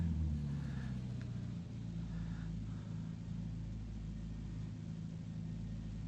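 Simulated piston aircraft engine idling during a magneto check in Microsoft Flight Simulator: a quiet, steady low drone with a slight dip in engine speed, continuous and without voices.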